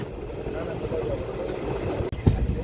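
The Hazarduari Express rumbles slowly over a bridge in a steady low drone of wheels and carriage, with a brief knock near the end.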